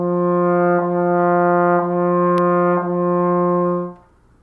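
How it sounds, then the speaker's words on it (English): A sustained brass tone, a trombone playing legato with a soft "lu" articulation, moving smoothly through a few connected notes with unaccented starts, then fading out. "we have our legato articulation, which I like to use the syllable lu"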